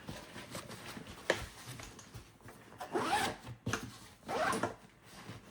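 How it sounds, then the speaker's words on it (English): A Vertx Gamut 32L backpack being zipped shut in several quick, scratchy zipper pulls separated by pauses and soft fabric rustling, close and fairly quiet. "let me zip this up."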